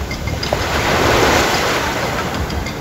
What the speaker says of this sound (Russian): Сегодня почему-то неспокойное море после дождиков.